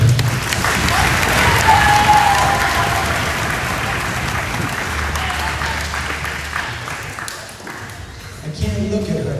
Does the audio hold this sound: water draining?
no